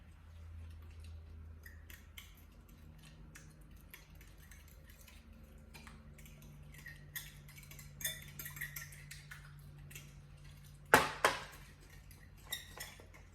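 Utensils clink and scrape against a bowl while cut cauliflower florets are stirred and mixed, soft irregular taps building to a sharper clatter near the end, close and without talk.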